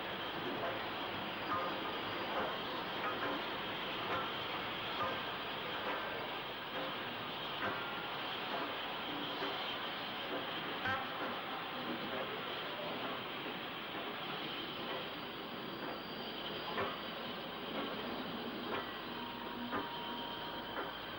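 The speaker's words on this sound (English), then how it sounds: "Barry Eagles captured this view of 34064 Fighter Command, absolutely immaculate, diesel fitted and just weeks from withdrawal, backing into the docks for an evening freight to London" Steam locomotive 34064 Fighter Command, diesel fitted and weeks from withdrawal, backs slowly into the docks for an evening freight, heard as a steady, dense rumble and hiss of rolling stock throughout, from a moderate distance with no clear voices.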